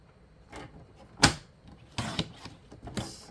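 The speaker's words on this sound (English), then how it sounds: "we're going to turn this piece and cut it into 3 2-inch pieces" Scissors or a paper cutter snipping a craft strip into three 2-inch pieces for Christmas tea and honey favor bag toppers, giving a few separate close, crisp cuts with quiet pauses between them.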